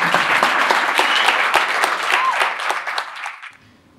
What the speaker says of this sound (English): Can we just please give them a round of applause?